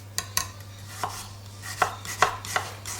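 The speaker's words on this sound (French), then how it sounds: "Hop, ensuite, on fait des tranches" A sharp knife slices a Golden apple into thin 3 mm slices on a board, producing crisp, irregular cutting taps about every third of a second, close and clear, with no talking.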